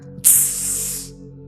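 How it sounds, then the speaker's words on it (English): A sharp burst of hiss as a sealed plastic Dasani water bottle is opened, loud at first then fading over about a second, with a low hum underneath. "water should not sound like a pop when I open it"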